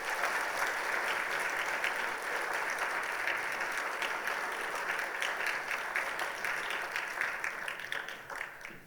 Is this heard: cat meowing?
no